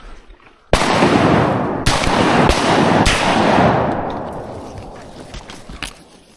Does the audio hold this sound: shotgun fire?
yes